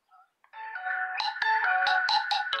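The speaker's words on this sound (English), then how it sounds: "Phone ringing." A phone ringtone plays: after a brief faint tone, a loud synthetic melodic jingle starts and runs continuously with rhythmic percussive notes, clear and close.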